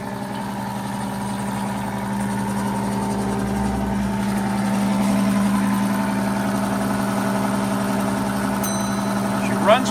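A 90-year-old gas pump engine runs at a steady, smooth idle, a continuous low hum with a slight swell midway. A brief sharp sound comes near the end.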